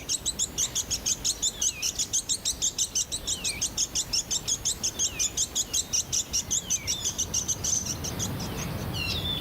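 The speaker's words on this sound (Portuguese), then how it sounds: "Um deles começa a piar alto." A Bonin white-eye on the Ogasawara Islands calls loudly to mark its territory, giving a long run of rapid, high, trilling chirps that repeat steadily at close range before trailing off into faint background rustle.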